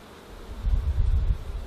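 Honey bees buzz around an opened hive with fresh comb full of nectar, a close, rising and falling drone that swells for about a second then eases, with no voices.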